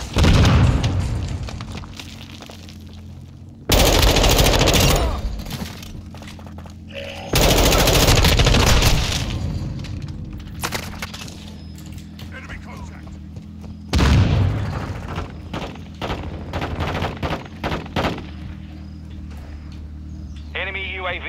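Loud bursts of automatic fire and explosions in a Call of Duty Modern Warfare II team deathmatch, arriving in several heavy volleys separated by quieter stretches, with game voices speaking between them.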